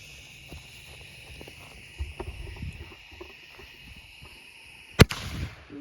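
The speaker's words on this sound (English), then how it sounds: "last one from the X Mini mortar kit by Mega Banger" An X Mini mortar firework from a Mega Banger kit launches outdoors, with quiet pops and rustling leading up to one sharp, loud bang near the end, followed by a brief tail.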